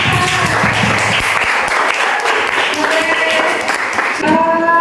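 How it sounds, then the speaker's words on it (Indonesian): Applause for a student group after their presentation in a teacher-training classroom, a few seconds of mixed clapping with voices talking over it and some music-like tones near the end. "Tepuk tangan yang buat kelompok"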